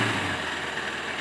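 A BS-6 Honda CB Unicorn 160 motorcycle idles at high RPM due to a fault, its engine giving a steady, close, continuous drone and rumble with no talking.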